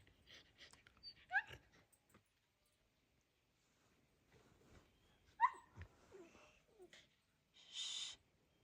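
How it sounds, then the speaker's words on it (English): A dog in aspen grove woods gives several faint, distant barks and yelps in short bursts, separated by stretches of near silence, with a longer hissing burst near the end. "A dog."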